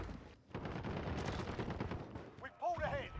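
Rapid gunfire in the Call of Duty: Modern Warfare video game, a fast run of close, punchy shots for about two seconds, then a voice talks over the tail of the firing.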